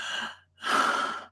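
A voice mimics heavy breathing with two long, breathy exhales separated by a short pause, close to the microphone and alone.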